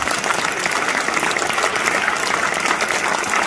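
Applause fills the hall at a ceremony honoring a Chevalier de l'Ordre National du Mérite, with sustained, even, dense clapping from a sizable audience, close and loud throughout.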